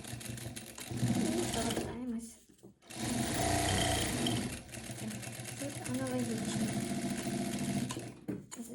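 A sewing machine stitches a fabric cutlery case in close, loud bursts of rapid mechanical whirring, with short pauses between runs; a voice speaks now and then under the machine.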